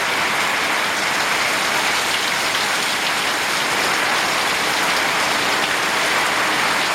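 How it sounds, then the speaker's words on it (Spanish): Heavy storm rain pours down in a dense, continuous hiss of drops striking surfaces nearby, loud and unbroken, with no voices. "Tormenta. Agua con lluvia."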